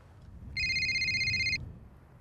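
A telephone rings once on a golf course, a single bright electronic ring tone lasting about a second over quiet outdoor background.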